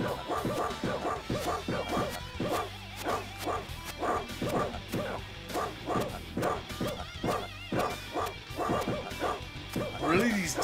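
Dogs in a Sega CD video game bark and yip in quick, repeated bursts throughout, loud and close, over game music with someone talking over the top.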